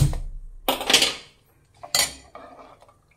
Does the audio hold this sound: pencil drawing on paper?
no